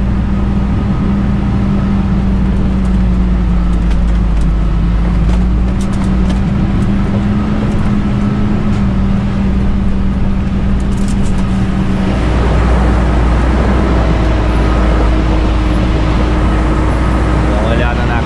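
A truck labours around a very tight curve, its engine droning steadily with a low hum that shifts partway through, and someone talks over it throughout.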